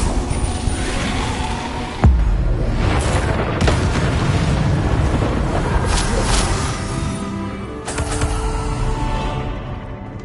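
Spell explosions from Confringo casting during Hogwarts Legacy combat: a sharp blast near two seconds followed by dense, rumbling booms and crackling bursts that fill the whole stretch, loud and continuous.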